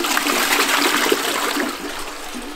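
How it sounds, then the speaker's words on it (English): A toilet flushing in a cheap, cold hotel room, a loud, close rushing and gurgling of water lasting a couple of seconds and tapering slightly at the end. "Flush is working."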